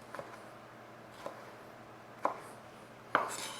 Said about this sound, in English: Nobody wants to see me chop tomatoes that long.